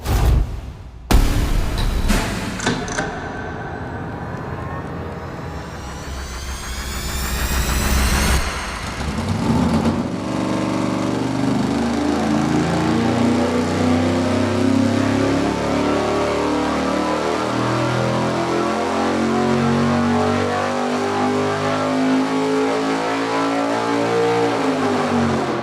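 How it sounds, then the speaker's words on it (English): A small-block Chevy V8 with a dual-plane intake runs on an engine dyno, firing up with sharp bursts and then holding a loud, steady, rumbling roar that rises and settles as it warms up. "we're going to fire it up here, get some temperature in it"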